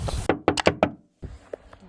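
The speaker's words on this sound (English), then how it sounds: "Someone just came knocking on my door." Someone raps on the door of a camper van: a quick run of four or five hollow knocks close by, a brief silence, then a couple of fainter taps.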